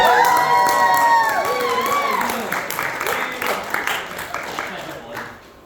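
Audience at a Ramencon ramen eating challenge cheering, shouting and clapping, loud and close at first, then fading out, with voices mixed in.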